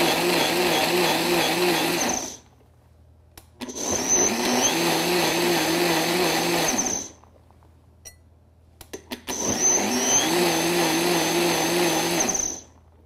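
A Vitamix Bar Boss Advance blender pulses lemons in three loud bursts of two to three seconds each, whirring motor noise with brief quiet gaps between pulses.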